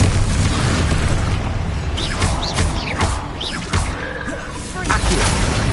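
A Bombarda spell explosion in the video game Hogwarts Legacy: loud booming blasts and crashing bursts over a constant roar of combat, with voices shouting through the fight.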